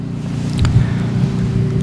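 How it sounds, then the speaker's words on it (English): A lawnmower drones steadily in the background, a constant low engine hum running through the whole moment with no voices over it. "I feel like you can hear the lawnmower in the background"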